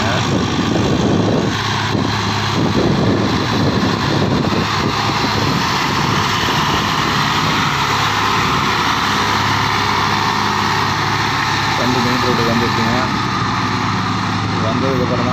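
A heavy Hindustan 50 hp tractor loaded with sugarcane labors uphill in second gear, a steady, loud, continuous drone, grinding along slowly without letting up.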